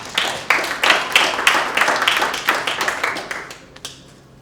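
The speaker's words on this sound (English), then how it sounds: "Round of applause to you guys for that." A small group claps in a short burst of applause, close and lively, tapering off to a few last claps.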